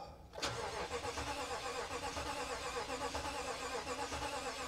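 Toyota Tundra engine turning over and struggling to catch, a loud continuous mechanical churn close by after a brief quiet start, running steadily without clearly firing up.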